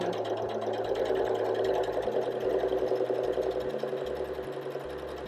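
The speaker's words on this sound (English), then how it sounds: "really just helping guide the fabric to go straight through your machine" A sewing machine runs steadily as fabric is stitched along a curve, its fast, even mechanical whir and needle clatter close and continuous throughout, with the pitch shifting slightly as the speed changes.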